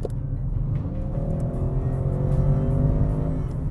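Audi RS 6 Avant in RS mode, its engine revving under throttle with a rising, sustained growl that climbs steadily in pitch, loud and close, alone with no talk.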